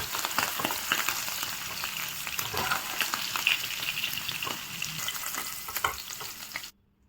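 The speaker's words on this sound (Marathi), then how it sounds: "पनीर आपलं चांगलं फ्राय झाला आहे." Paneer cubes frying in a pan give a steady, close sizzle with scattered crackles and occasional stirring scrapes, and no voice over them; the sound cuts off abruptly just before the end.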